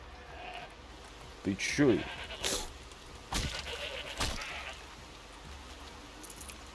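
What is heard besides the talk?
goat bleating in video game Horizon Zero Dawn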